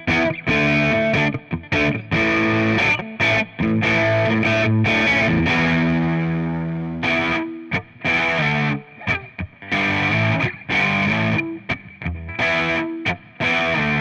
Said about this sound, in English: These are all derived from 16 different types of distortion, overdrive, and fuzz,